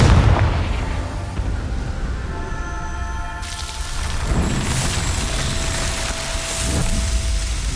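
Confringo fire spell blasts in Hogwarts Legacy, booming impacts with crackling, rumbling debris that fill the scene, a loud burst near the start and further thuds later.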